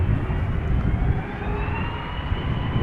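Air Baltic airliner departing Amsterdam Schiphol, a steady loud jet engine roar held for the whole stretch with a slowly rising whine layered on top, nearby and with no talk over it.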